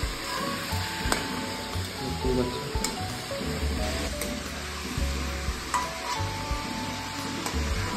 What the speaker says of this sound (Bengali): এখানে ফ্রাই করছে চিকেনগুলো, বিরিয়ানিগুলো।